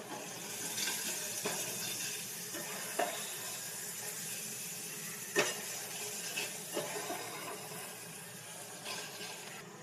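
Spices sizzling and frying in a pan for a village-style pumpkin and prawn curry, a steady close hiss with occasional sharp clinks and scrapes of a spoon against the pan.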